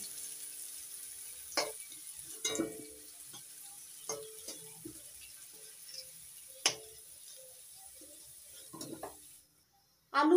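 Potatoes frying in oil hiss with a steady high sizzle, broken by scattered clinks of a utensil stirring the pan, ending in a short silence and a final clatter.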